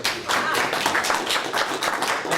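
Audience applause for a school superintendent at a Lions Club meeting, a dense, steady patter of many hands clapping close by for a couple of seconds.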